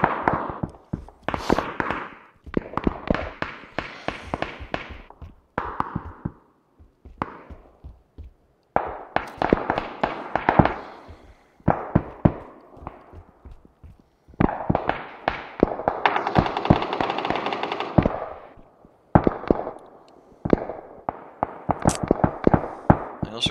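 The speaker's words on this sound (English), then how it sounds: "It's like firecrackers or something. At least it sounds like it." Gunfire in the PUBG video game comes in rapid bursts of sharp cracks, separated by short pauses, loud and close with no talking over it.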